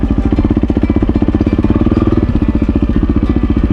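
A Sherden motorcycle engine rumbles up close, a loud, steady pulsing throb with rapid even beats and no one speaking.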